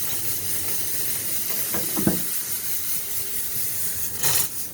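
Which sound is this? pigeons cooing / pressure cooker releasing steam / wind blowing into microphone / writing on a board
pressure cooker releasing steam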